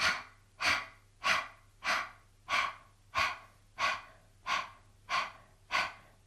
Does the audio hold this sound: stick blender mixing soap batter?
no